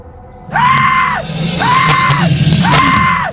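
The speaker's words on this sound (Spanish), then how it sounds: "de su garganta surgió un bramido gutural, ronco y a la vez potente" Guttural, hoarse monster roars mixed with screaming in a horror story scene, three loud sustained bellowing cries in a row with short gaps, each swelling and then cutting off, over a rumbling low background.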